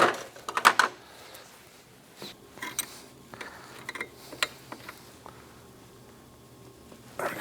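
A ratchet wrench tightening a 9/16 fitting on a snowmobile turbo install, a 2016 Polaris RMK AXYS 800, gives brief clicking bursts near the start, then scattered faint ratcheting clicks and clinks alone.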